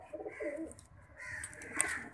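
Soft fantail pigeon coos, a few low rolling calls close by, with faint background noise between them.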